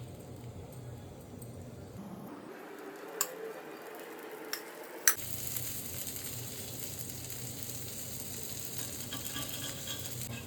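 A ghee dosa fries in a pan with a steady, close sizzle and crackle throughout, briefly changing texture midway with a couple of sharp ticks as ghee is added, no talking.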